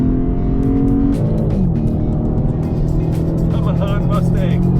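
A Lexus IS 500 and a Ford Mustang V8 roar off the line in a drag race, engines revving hard and shifting up through the gears, loud and close, with voices over them.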